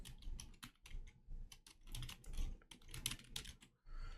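Rapid keystrokes on a computer keyboard as a password is entered, an irregular burst of close, quiet clicks with short pauses, no voice over them.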